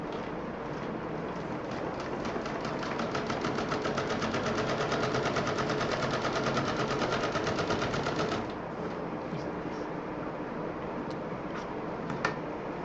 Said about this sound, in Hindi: ये बेल्ट इधर हम पलट के यहाँ पे रख के सिल लेंगे